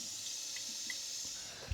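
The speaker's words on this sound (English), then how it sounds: "The water is constantly spilling over here, right?" Water from a faulty toilet supply runs constantly and spills over, a steady faint hiss with small drips and trickles and no talking.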